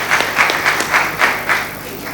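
An audience applauds a sister at a program, claps arriving in rhythmic, pulsing waves roughly four times a second, steady and moderately near, fading slightly toward the end.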